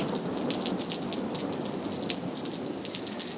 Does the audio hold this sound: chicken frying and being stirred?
no